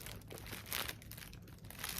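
A freshness packet crinkles and rustles inside a textured Rachel Zoe handbag with a top zip, making a close, steady papery crackle for a couple of seconds.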